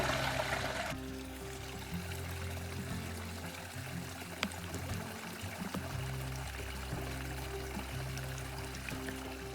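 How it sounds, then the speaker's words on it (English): Water trickles and pours steadily through a filter with a low continuous rush, a faint hiss on top, and no talking throughout. "that took some time, filtering the water"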